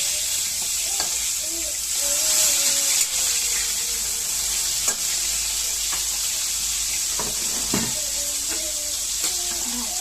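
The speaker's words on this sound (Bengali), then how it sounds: "মাছ ভাজা করে নেবো একটু লাল লাল করে" Fish frying in a pan until reddish-brown, a continuous hiss and crackle with faint clinks, heard close and steady for several seconds with no talk over it.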